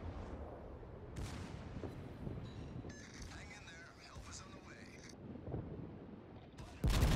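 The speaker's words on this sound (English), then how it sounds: "He is close enough for his secondaries to fire." Faint, distant booms from the secondary guns of the battleship Bismarck in the World of Warships video game, sounding as a few separate heavy thuds over quiet ambient noise.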